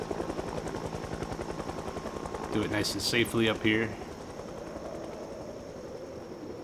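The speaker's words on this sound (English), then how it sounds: "it sounds like the helicopter left. No, it's still flying around" A helicopter in a zombie survival video game hovers and flies around, giving a steady rhythmic rotor chop throughout, while someone speaks briefly over it partway through.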